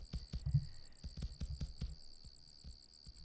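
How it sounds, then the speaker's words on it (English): Crickets chirp at twilight in the video game Cube World, a rapid, regular high-pitched pulsing that runs steadily through the scene, fairly quiet, with soft low thumps scattered underneath. "Now you can hear that the crickets are chirping."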